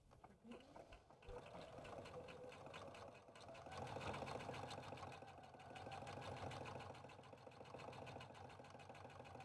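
A sewing machine stitches applique onto a rope coaster, running steadily with a fast even needle rhythm throughout, soft and close.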